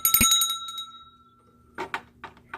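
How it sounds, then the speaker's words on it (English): A small desk bell labelled for wine rings with a bright metallic ding and quick rattling strikes, its tone ringing out and fading, followed by a few softer taps and handling noises. "I have my bell here that says ring for wine."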